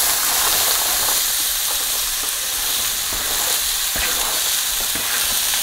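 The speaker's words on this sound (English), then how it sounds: "what I'm doing here is actually called a sauté" Onions sauté in hot oil in a pan over medium-high heat, giving a steady, loud, close sizzle with occasional crackles and stirring scrapes, no voices.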